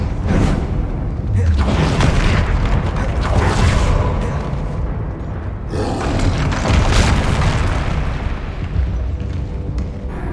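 A Confringo blasting curse erupts in Hogwarts Legacy as a heavy, booming explosion, followed by a second loud rolling blast, both thick and sustained with whooshing debris tails.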